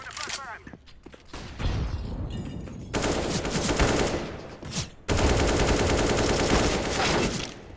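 Video game gunfire, rapid automatic bursts that start and stop in dense runs, with a voice talking over parts of it.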